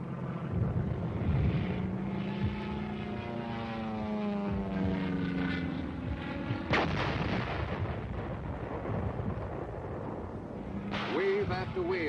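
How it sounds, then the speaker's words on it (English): Air strikes blast enemy hill positions in the Kumwa Valley, Korea: a steady, heavy roar of aircraft and bombardment runs throughout, with sharper explosive bursts near the middle and end, mixed with music. "The enemy's strong positions were blasted first from the air."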